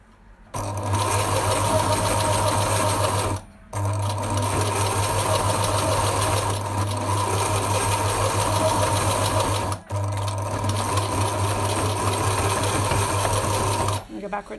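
Domestic sewing machine stitching the lining of a fabric face mask, a loud steady whirring hum in three long runs separated by brief pauses, with no talk over it.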